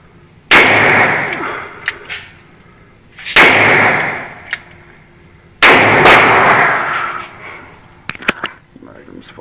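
Three loud, close revolver shots from a Smith and Wesson Model 28-2 Highway Patrolman firing .357 Magnum and .38 Special rounds at a range, each a sharp crack with a long ringing decay, spaced about two and a half seconds apart, with brief talk between.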